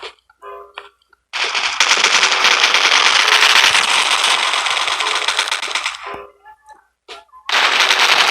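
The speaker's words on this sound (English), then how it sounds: "here's an example of a assault rifle that you can use" Long, rapid full-auto bursts of assault rifle fire in the mobile FPS game Coalition, loud and close, with a few single shots between the sustained bursts.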